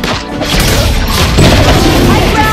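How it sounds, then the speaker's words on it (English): A turret blows up in Honor of Kings in a loud, booming crash, with heavy thuds and clattering debris swelling partway through amid constant battle noise. "Your turret has been destroyed."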